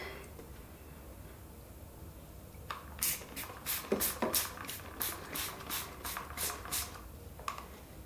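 A spray bottle of grout cleaner squirts in a quick series of about a dozen short, crisp bursts, some in rapid pairs, close to the microphone with no talking.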